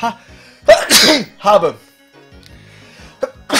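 Two or three sharp, loud sneezes burst out in quick succession, followed by quieter talking, during a Pokémon Platinum play session.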